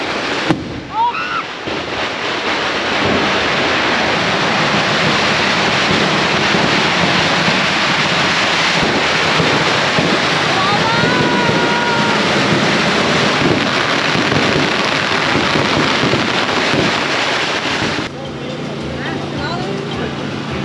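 Dense, continuous celebratory fireworks crackle and pop for about twenty seconds in a Maya village beside Lake Atitlán, Guatemala, loud and sustained with no break, before easing slightly near the end.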